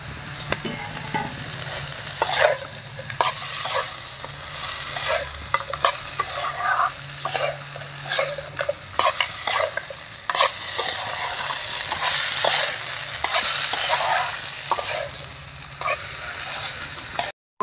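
Fried fish head and fried rice being stirred in a pan, a continuous sizzle with repeated scraping and clattering of a spatula against the pan, close and fairly loud throughout.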